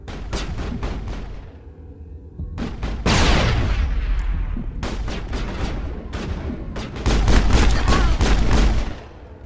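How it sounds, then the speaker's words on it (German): Grenade blast and rapid gunfire in the video game Mass Effect, loud repeated sharp shots with a heavy explosive boom and crackling debris, continuing in dense bursts. "Ich habe wieder eine Granate geworfen."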